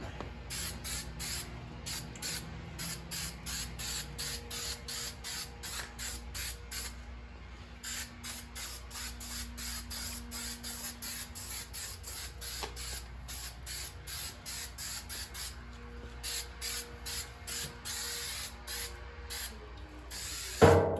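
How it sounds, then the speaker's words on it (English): Bursts of hissing spray from a 3M aerosol spray adhesive can, repeated in short rhythmic pulses close to the listener, with brief pauses between them, while installing a gas tank on a Firebird or Camaro. "Take your 3M, shake it up, spray her down."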